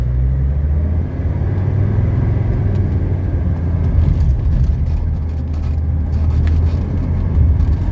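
Steady, loud road rumble from a 1979 Mercedes 300SD cruising at speed on a Georgia highway, with continuous low engine drone and tire noise throughout.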